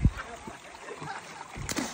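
Someone falls into water on a trek at Ratangad Fort, making a short splash at the start and another burst of splashing near the end, with steady outdoor noise between.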